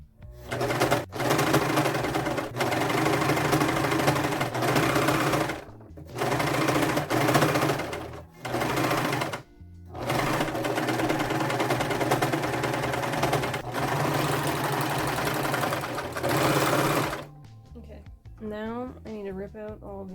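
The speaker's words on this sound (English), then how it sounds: "then you'll see me serging them together" Serger sewing machine stitching skirt fabric together, loud rapid mechanical whirring in long runs separated by short pauses, and a voice speaks near the end.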